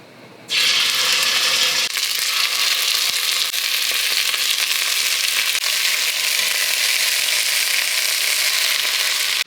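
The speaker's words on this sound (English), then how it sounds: "I'm gonna use about a tablespoon of olive oil and sear this thing up" Pork tip sirloin sears in about a tablespoon of olive oil in a pan. A sudden, loud, continuous sizzle starts almost at once and holds steady throughout, with no voices.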